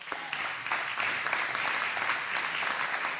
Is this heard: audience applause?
yes